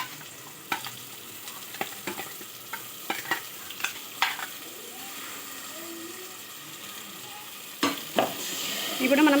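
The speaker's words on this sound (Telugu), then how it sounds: "మొత్తం కలుపుకొని మనము దీంట్లోకి వేసేసుకోవాలి." Fish curry gravy mixed with water hits a hot pan over high flame, giving a steady close sizzle with sharp scraping clicks and knocks from stirring throughout, growing louder near the end.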